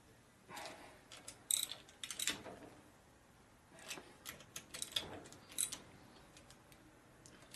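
Bolts being tightened on a Harley shovelhead transmission cover during a rebuild: bursts of ratcheting clicks and metallic ticks come in uneven clusters, close and fairly quiet, with pauses between.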